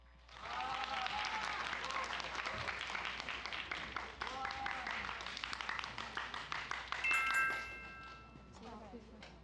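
A school event audience gives a long, steady round of applause for the final team, Hansol High School, taking the stage; the dense clapping swells and then tapers near the end, with faint voices under it.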